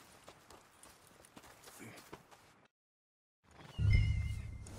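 Horse hooves clip-clop in the Red Dead Redemption 2 video game, soft repeated steps under ambient game sound, then a short silence before a louder burst of noise.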